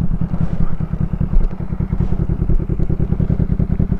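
A 2001 Kawasaki ER-5 500 motorcycle being ridden, its engine running at a steady, rapid throb that stays loud and close for the whole stretch, with wind buffeting layered over it.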